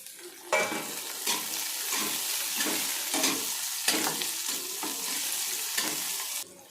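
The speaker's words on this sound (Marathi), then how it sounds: "परतून घ्यायचं थोडं लाल होईपर्यंत. यामध्ये टोमॅटो घालून घेऊया." Onions and tomatoes sautéing in a pan for rava upma, a close sizzle broken by regular scraping strokes of a spoon stirring roughly once a second, then stopping abruptly near the end.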